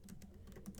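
Rapid keystrokes on a computer keyboard, a steady run of light clicks close up with no talking.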